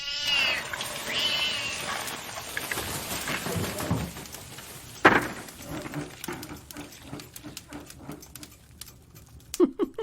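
A cat meows several times amid a busy, noisy room, with scuffling and clattering sounds and sharp bursts near the middle and end; the cat's tail has caught fire.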